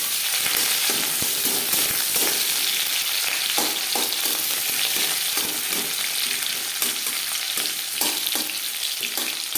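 Onions frying lightly in hot refined oil for mashed taro (maan kochu), giving a dense, continuous close sizzle with frequent small crackles and stirring scrapes throughout.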